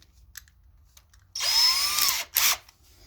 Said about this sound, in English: I wouldn't be able to do that with this drywall setter that I have here